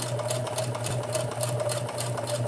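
A sewing machine stitches fabric at a steady, fast pace, its motor hum and rapid needle chatter continuous and close for the whole stretch, with no one talking.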